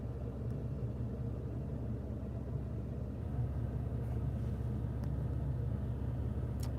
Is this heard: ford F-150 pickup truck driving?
yes